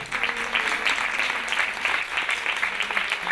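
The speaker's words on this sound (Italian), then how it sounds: "Un applauso." Audience applause at a film screening talk with director Emma Dante, dense steady clapping from a large crowd filling the room throughout, no voices above it.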